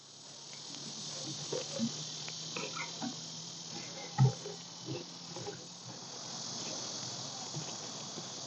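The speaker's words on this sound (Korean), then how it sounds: "매미 소리도 들리고요." A steady, faint insect drone of cicadas fills the background outdoors at Upo Wetland in Korea, with a few soft knocks and rustles nearby.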